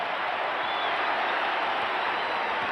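Arena crowd at Game 3 of the 1989 NBA Finals, Los Angeles Lakers vs Detroit Pistons, applauding: dense, continuous clapping and cheering that holds a steady level throughout and sounds slightly distant, as in a broadcast.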